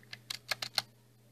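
A handful of quick keystrokes on a computer keyboard while a password is entered for a new Gmail account, soft, close and evenly spaced, then quiet.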